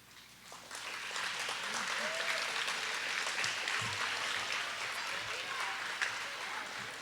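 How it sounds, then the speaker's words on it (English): Audience applauding at an elementary school graduation, broad sustained clapping from a crowd in a large space lasting several seconds, with scattered voices and cheers mixed in. "I want you to applaud for them."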